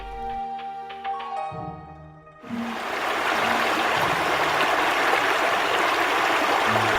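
The Chishui River flows as a steady, full rush of water that swells in after a few soft melodic tones and continues evenly to the end.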